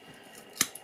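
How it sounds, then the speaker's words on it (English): A single close, crisp snip of scissors cutting recycled cardboard, trimming along its grooves, a sharp burst with a faint second click just after, in otherwise quiet surroundings. "I'm sort of putting my scissors in the grooves"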